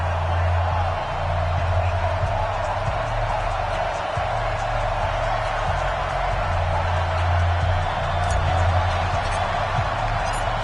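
Stadium crowd roaring in an EA Sports football game before a Colts versus Broncos matchup, a dense continuous wash of cheering with a low steady hum underneath.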